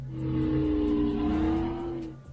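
A car engine in the mobile open-world driving game Cars LP holds a steady, sustained rev, loud and continuous with a slight pitch drift, with no talk over it.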